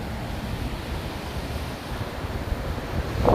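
Surf washing onto a beach after storms makes a steady, broad hiss and rumble, with wind noise buffeting the microphone and a brief swell of louder wash at the end, with no talking.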